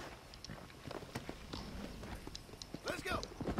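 Horse hooves clip-clop at a walking pace in the Red Dead Redemption video game, a brisk uneven patter of thuds mixed with game ambience and someone talking over it.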